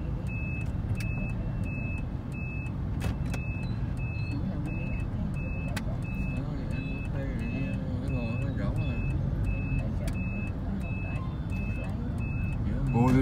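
Busy road traffic swirling around a traffic circle in Vietnam, a continuous rumble of engines with horns tooting and repeated reversing-style beeps, while people talk over it nearby.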